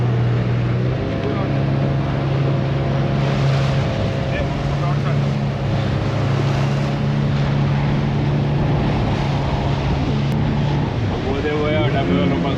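Motorboat engine droning steadily as the boat rides over big waves in a mangrove forest near Pondicherry, with water rushing and wind buffeting the microphone throughout, and voices talking over the engine.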